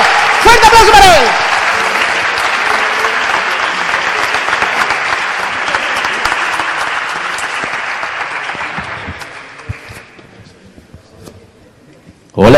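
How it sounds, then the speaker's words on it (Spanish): Loud applause from a science students' congress audience in a hall, a dense sustained wash of clapping that slowly fades over about ten seconds, with a brief voice at the start and end. "Fuerte aplauso para él."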